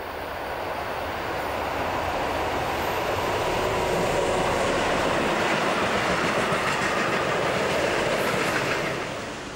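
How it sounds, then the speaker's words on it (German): A train hauled by locomotive 142-110 of Erfurter Bahnservice rolls past in a broad, steady wash of rumble and rail noise that swells toward the middle and fades slightly at the end, with no voices. "Ebenfalls nostalgisch ist 142-110 der Erfurter Bahnservice."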